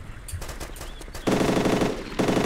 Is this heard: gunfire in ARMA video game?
yes